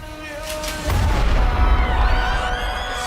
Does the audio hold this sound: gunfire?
yes